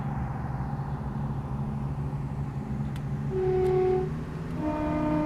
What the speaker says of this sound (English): We can enjoy the 170 sounds, we can.